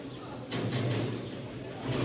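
Rajshahi Giribaz pigeons coo in low, throaty murmurs amid constant rustling, with a sudden burst of broadband noise partway through.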